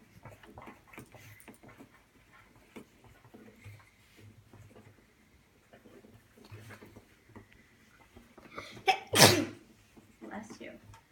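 A single sharp sneeze bursts out loud and close near the end, standing above quiet background chatter and movement in a room where people are brainstorming.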